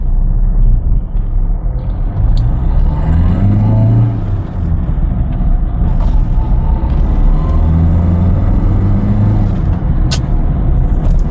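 A Ford Figo diesel turbo car accelerates on the road, with a steady loud engine drone and rising, shifting tones as it gains speed, plus road rumble and a couple of brief clicks, with no voices.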